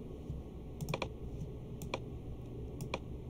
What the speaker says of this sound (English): I'm just left clicking and dragging.